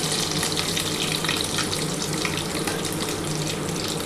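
Soybean and potato cutlets fry in oil in a pan over low heat, giving a loud, steady, close sizzle that runs unbroken throughout.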